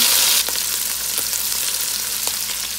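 Garlic fries in a hot pan for a Filipino adobo sitaw with pork sausage, giving a loud, steady close-up sizzle with faint stirring clicks and no talking.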